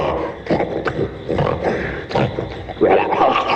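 A bear in a jungle setting growls and grunts loudly in rough, repeated bursts, close by and dominating, with a harsher rumbling snarl near the end.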